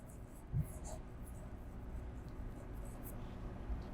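A pen scratches across paper while accounts are written up, a quiet, intermittent scrawl with soft strokes and taps, close to the microphone.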